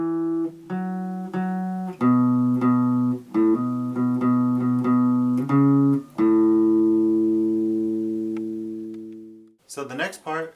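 A guitar riff rings out clearly on its own: a run of repeated plucked single notes with open-string hammer-ons, ending on a long sustained note that fades before a short closing burst.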